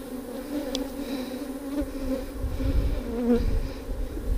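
Honey bees buzz in a steady, close drone while a beehive's bottom brood chamber is opened for inspection, with brief louder swells from bees passing near and no talking.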